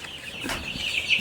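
Tiger-breed chickens cluck softly at a poultry farm, a few short calls rising over steady farmyard hiss and a faint flutter.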